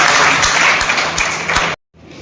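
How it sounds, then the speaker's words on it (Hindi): Applause at an annual community gathering of a foundation in Kukshi, steady close clapping from the crowd that cuts off abruptly, followed by a quiet murmur of room noise. "तालियों से इस्तकबाल होना चाहिए।"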